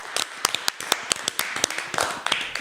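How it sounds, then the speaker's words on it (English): A short burst of hand clapping, around a dozen sharp, close claps in an uneven rhythm, sounding like a few people rather than a full crowd. "Clap it the fuck up."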